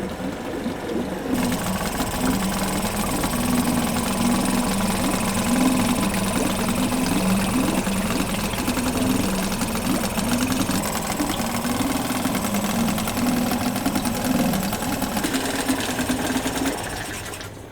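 Yamaha 5 outboard boat motor running steadily, a close, continuous buzzing drone with a fast rhythmic putter that holds even throughout, with no voices.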